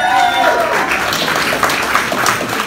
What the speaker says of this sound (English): Do you want to give him a round of applause?